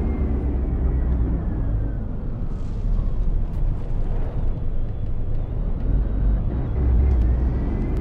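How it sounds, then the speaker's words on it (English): Torpedo and missile explosions in the naval combat game From the Depths, a dense, continuous low rumble of blasts and roaring impacts that stays loud and steady throughout, with swells near the middle and end. "And of course now the torpedoes are hitting up as well"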